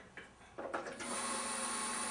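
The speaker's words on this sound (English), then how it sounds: "when you turn on the machine, make sure you have it on very low vacuum" A microdermabrasion vacuum machine set to very low suction switches on after a few handling clicks, then runs as a steady, faint hiss and hum.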